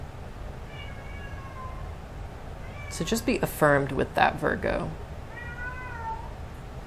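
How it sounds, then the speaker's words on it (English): A pet cat meows in the background, several short meows at low-to-moderate level, partly overlapping a person talking. "that's my cat in the background again."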